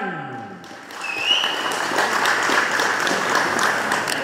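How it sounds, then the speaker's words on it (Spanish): Applause breaks out at a birthday celebration, a steady wash of clapping that swells after the first second and continues at even strength to the end, with music faintly underneath. "Fuerte los aplausos para Héctor Során."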